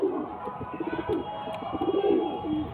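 A male pigeon coos in low, rolling, repeated phrases, close by and continuous.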